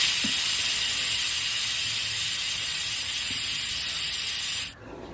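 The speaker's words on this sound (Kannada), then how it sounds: "ಕುಕ್ಕರ್ ಮುಚ್ಚಲ ಮುಚ್ಚಿ ಒಂದು ಮೂರು ನಾಲ್ಕು ವಿಸಲ್ ಬರೋವರೆಗೂ" A loud, steady hiss of escaping steam from a pressure cooker whistling while country chicken curry cooks runs continuously and then cuts off sharply near the end.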